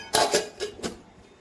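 A metal pressure cooker is set down on a gas stove in a home kitchen, giving four quick, close metallic clinks and knocks within about a second.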